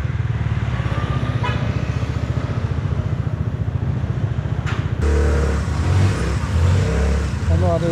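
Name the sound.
car engine revving high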